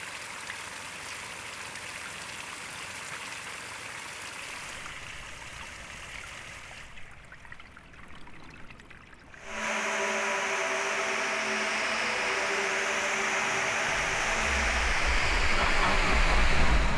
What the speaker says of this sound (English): Found what sounds like some sort of running pipe